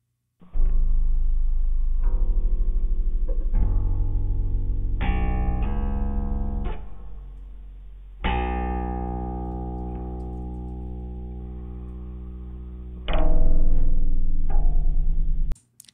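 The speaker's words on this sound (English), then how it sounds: "So here is playing back the sound at a much slower sampling rate." Audio played back in MATLAB at a too-slow sampling rate comes out as a low, dragging, distorted stream of warped tones in shifting sections, loud and continuous with no talking.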